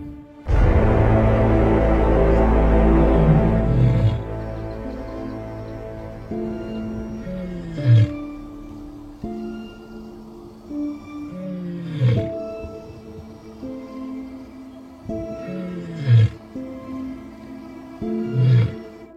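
Lions roar nearby on the savanna, a deep sustained roar followed by a series of rhythmic grunting roars repeating every few seconds.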